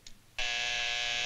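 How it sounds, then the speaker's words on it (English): A joke hand buzzer goes off during a handshake: a brief faint click, then a loud, steady electric buzz that holds on alone for about a second. "It's a hand buzzer."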